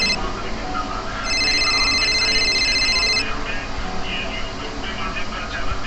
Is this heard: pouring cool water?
no